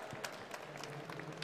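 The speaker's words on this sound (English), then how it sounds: "let's have another round of applause for Rubens." At a coffee brewing competition, an audience gives scattered applause for Rubens, light clapping with a few sharper claps, faint and somewhat distant.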